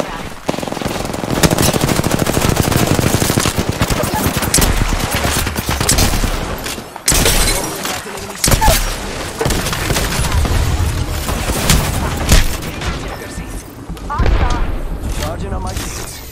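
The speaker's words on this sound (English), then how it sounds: "They spotted me. I'm taking shots." Rapid automatic gunfire from the Apex Legends video game, dense bursts and booms filling most of the stretch with brief pauses, while a player talks over the shooting.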